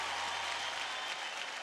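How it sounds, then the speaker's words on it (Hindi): Audience applause on the Indian TV singing competition Superstar Singer 3, a dense, steady wash of clapping from a studio crowd, fairly soft and continuous throughout with no voices standing out. "एक बार जोरदार तालियां हो जाए क्षितिज के लिए और हमारी साइली के लिए"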